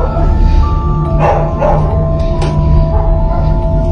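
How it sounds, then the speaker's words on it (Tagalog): Dogs near a house basement yip and bark in short, excited bursts, mid-distance and fairly loud over a constant low background rumble. "hindi na maawat ang mga aso sa kakakahol"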